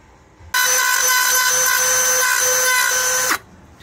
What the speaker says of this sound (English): After grinding the metal clean